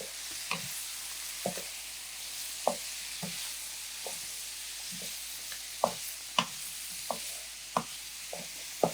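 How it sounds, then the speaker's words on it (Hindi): Fried onions tip into a hot pan and are stirred through a steady sizzle, with a spatula scraping and tapping the pan in irregular clicks about once a second, close and fairly quiet. "मैं अब साथ ही इसमें डाल रही हूँ फ्राई प्याज"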